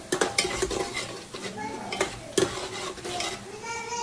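Coriander and ginger-garlic paste are sautéed in oil, with sharp metallic scrapes and clinks of a spoon against the pan over a light sizzle in close, irregular strokes, and nobody talking.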